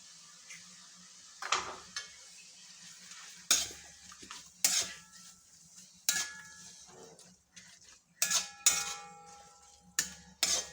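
Egg added to a pan of cooking leafy greens and stirred, with repeated scraping and clinks of a spatula against the pan at an uneven pace over a quiet sizzle, no talking.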